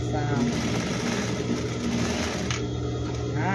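Sewing machine stitching a seam on a fabric cover for a plant pot, a steady fast mechanical whir heard close, with someone talking over it.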